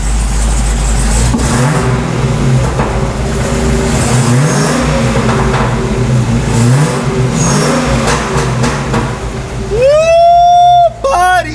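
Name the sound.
naturally aspirated Dodge Hellcat engine revving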